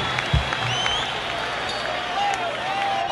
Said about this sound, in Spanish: Y ahora, un fuerte aplauso